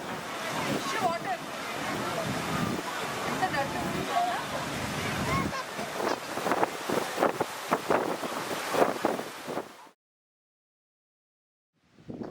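Dense rushing noise of heavy rain and gusting wind by a lake in Periyar Tiger Reserve buffeting the microphone, growing rougher before cutting to near silence.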